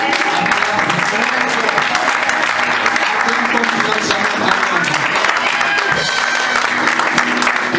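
A church congregation at a consecration service cheers and applauds with a dense, continuous clatter of clapping, shouts and voices mixed in throughout.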